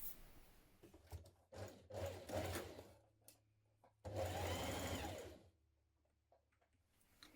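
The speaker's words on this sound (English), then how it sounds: "And then you're going to stitch those two pocket bags together." A sewing machine stitching two fabric pocket bags together runs in several close bursts, whirring briefly, pausing, then a longer steady run before stopping, with no voices.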